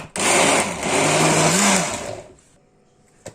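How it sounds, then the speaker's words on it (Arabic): Blender whirring through banana, guava and a touch of vanilla for juice, a loud high motor whine running for about two seconds with a slight pitch wobble before spinning down, then a short knock. "خلاص بقى ضربنا الموز والجوافه"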